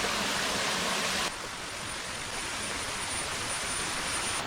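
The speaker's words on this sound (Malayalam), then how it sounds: "ആ അരുവി ഒഴുകി വരുന്നതൊക്കെ പാറപ്പുറത്തോടെ അതിങ്ങനെ വന്നിട്ട് താഴേക്ക് പോവുകയാണേ" A forest stream flows over rocks and drops downward through a bamboo thicket, a steady, dense rushing wash close by with no voices.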